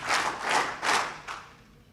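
Audience applause in a lecture hall at a motivational talk, coming in about four short bursts of hand clapping that swell and fade, the last one fainter.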